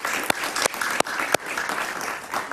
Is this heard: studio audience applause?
yes